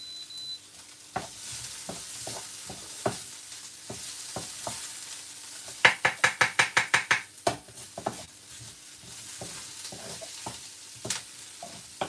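Ginger and pineapple sizzle in a pot on the stove with a soft steady frying hiss, broken by scattered stirring clacks and a quick burst of rapid utensil taps midway.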